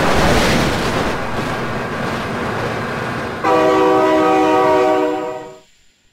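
A train horn sounds in the BeamNG Drive video game: a loud rumble of a passing train builds, then a close, sustained multi-tone horn blast plays for about two seconds before everything cuts out abruptly.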